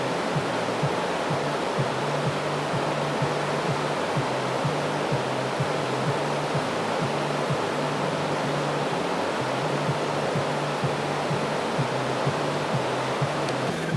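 A clear river in Zhetysu, Kazakhstan, runs beside a rural bathhouse with a steady, even rush of water that fills the scene for the whole stretch. A faint low hum pulses in the background.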